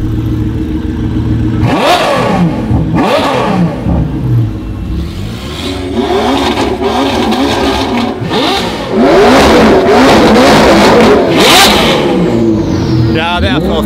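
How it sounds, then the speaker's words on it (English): Naturally aspirated Ferrari supercar engine revving loudly up close, with several sharp climbing revs and bursts over a steady idle, mixed with people chatting nearby. "Then you get the NA Ferrari, like, listen."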